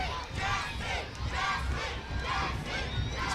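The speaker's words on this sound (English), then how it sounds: "Jesse chants in the crowd." Baseball crowd at a CCL Showcase game against the Yakima Valley Pippins chanting for batter Jesse Mazziotti, a loud, rhythmic collective chant rising and falling in repeated bursts across the stands.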